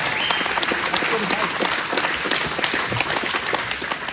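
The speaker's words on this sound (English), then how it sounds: "Give him a round of applause." Dense, sustained applause from a crowd at a Liberty Bash political rally, loud and continuous with busy clapping throughout, voices mixed in underneath.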